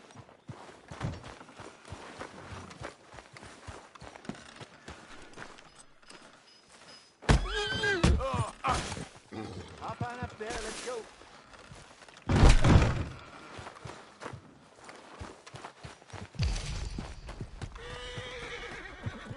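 A horse in the video game Red Dead Redemption 2 whinnies loudly several times, mixed with hoof clip-clops and dull thuds. Background game sounds fill the gaps between the calls.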